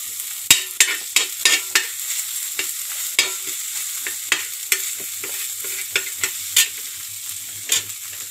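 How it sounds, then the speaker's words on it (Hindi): Naan pieces frying in oil in a pan, a steady sizzle with a string of sharp clinks and scrapes at an uneven rhythm from turning the bread, close and alone with no talk. "नान के पीस भी यहाँ पर रख देंगे। से इसे फ्राई कर लेंगे।"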